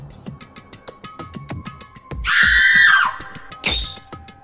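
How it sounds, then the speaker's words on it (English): A character in the video game Danganronpa Another Episode lets out a loud, sustained scream and then a second shorter cry, over a steady patter of rapid game text blips. "Another scream."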